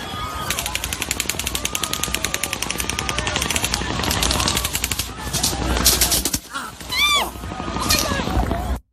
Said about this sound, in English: Shots fired at the concert.